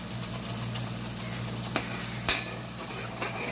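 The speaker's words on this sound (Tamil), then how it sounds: "இப்போ நம்ம தக்காளி கலவையை சேர்த்துக்க போகிறோம். தக்காளி கலவையை சேருங்க." Tomato mixture goes into a hot pan of Tamil-style fish curry, giving a steady sizzle with stirring scrapes and a couple of sharp clatters against the pan.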